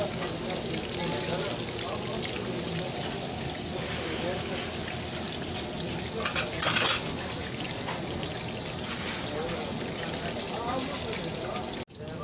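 Water pours and splashes into a pot of chicken with turmeric and spices amid a soft sizzling hiss, with a brief louder burst midway; quiet voices murmur underneath.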